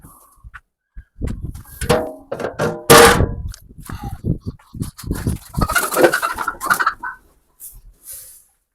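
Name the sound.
ducks and chickens eating homemade feed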